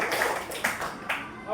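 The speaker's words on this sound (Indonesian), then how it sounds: "tepuk tangan buat Siti" A classroom of children claps briefly for a classmate, a few quick bursts of clapping mixed with voices.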